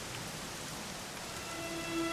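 Steady rain pours in a Dragon Quest XI S game scene, an even hiss of falling drops filling the whole stretch with no voices.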